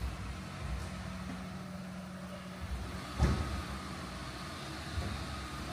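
At night on Bukureštská street in an old town, a car passes as a faint, distant broadband wash of tyre and engine noise, with a short soft bump midway.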